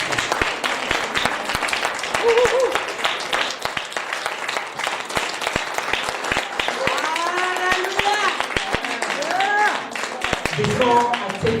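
A church congregation gives a sustained round of applause, thick rapid clapping with cheering and raised voices woven in over about twelve seconds.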